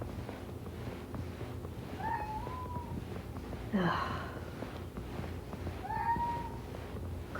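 A house cat meows twice, a few seconds apart, at moderate distance. Each call is a short rising-falling mew. Between them a brief snort or gasp sounds over a low background hum.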